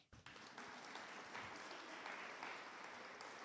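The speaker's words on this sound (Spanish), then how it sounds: "Ahora vamos a darle los demás un fuerte aplauso a los futuros papás" An audience at a talk on parenting gives the future parents a sustained round of applause, a dense, steady wash of clapping from many hands that starts abruptly and holds evenly throughout.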